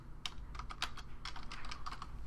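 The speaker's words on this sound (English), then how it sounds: "So I'm just typing here on an angle" Quiet, rapid clicking of a computer keyboard, irregular keystrokes tapping in quick succession close by with no talking.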